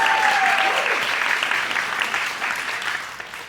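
Audience at a church service applauding together, a dense wash of clapping that is loud at first and slowly thins over a few seconds, with no talking over it.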